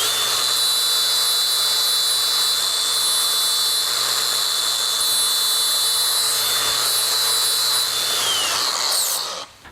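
An angle grinder deburrs the inside of a TIG-welded custom exhaust tube for a Honda Civic EJ2, a loud steady high whine held for several seconds before cutting off abruptly at the end, no talking.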